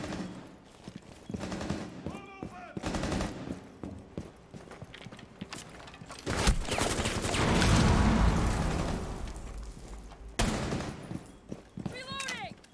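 Gunfire in the Rainbow Six video game, bursts of rapid shots and heavier sustained firing with mechanical clicks between, mixed with game effects and a voice talking over it.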